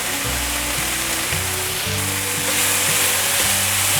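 Mushrooms and tofu stir-fried in a pan, giving a loud, steady sizzle with the scrape and clatter of stirring throughout, close up and with no talking.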